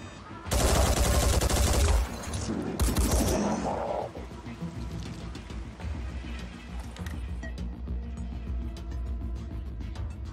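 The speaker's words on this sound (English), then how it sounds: "let's have him start laying into the Queen with his machine gun" A soldier's machine gun fires a loud, dense burst into a Queen in the strategy game Phoenix Point, followed by rattling, lower-level battle noise.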